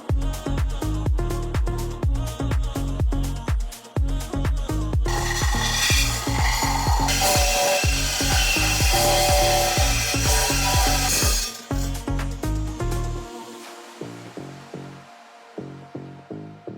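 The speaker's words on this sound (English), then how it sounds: "It's just a normal wood cutting miter saw, but we got a metal blade on here" A standard wood-cutting miter saw fitted with a metal-cutting blade slices a straight metal section, close and loud, with a sustained grinding cut in the middle and rhythmic rasping strokes before and after as the blade spins down.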